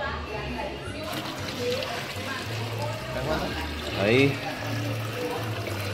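Water is poured into a low-lying fog machine, making a soft trickling pour that swells briefly. People talk over it.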